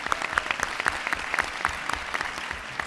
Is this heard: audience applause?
yes